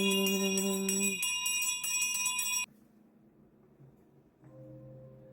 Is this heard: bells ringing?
yes